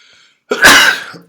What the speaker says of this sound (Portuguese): Olha aí, vídeo com direito a espirro.